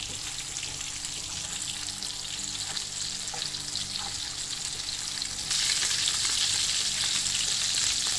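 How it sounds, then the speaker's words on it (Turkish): Swedish IKEA-style meatballs fry in oil with a steady, loud crackling sizzle throughout, growing brighter and more intense toward the end, with no talking. "köftelerimiz kızardı"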